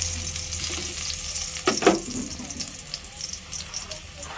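Chopped garlic hits hot oil in a pan for a sotanghon soup, giving a steady close sizzle with a brief louder burst of stirring partway through.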